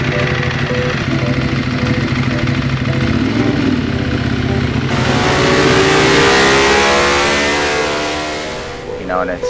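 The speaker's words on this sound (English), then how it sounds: "when I'm riding the bike, it sounds good to me" A motocross bike engine revs hard and steadily through its exhaust, its note climbing and holding loud and close, with a brief burst of talk near the end.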